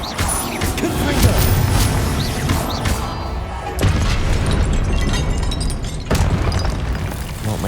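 Repeated booming blasts from the Confringo spell in Hogwarts Legacy, loud and close, with crashing debris and rumbling impacts that come in waves over several seconds.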